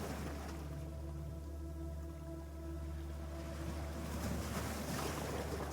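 Irish Sea water at Dalkey Harbour washes in a low, continuous surf with a faint hum underneath, gentle and distant, building slightly toward the end, with no speech.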